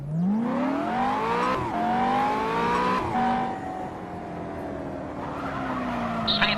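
A race car in the Simraceway driving game, engine revving up through the gears with rising pitch and shifts, tires squealing and skidding, loud and continuous.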